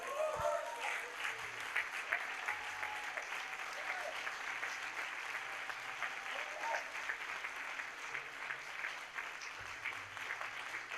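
A church congregation stands and applauds, with cheering and shouted acclamations rising from the crowd. The clapping stays dense and steady throughout, fairly loud and filling the room.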